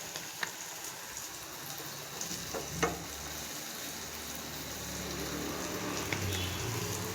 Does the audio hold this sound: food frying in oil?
yes